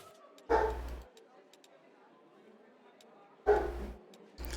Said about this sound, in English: There may be a small sound of dogs barking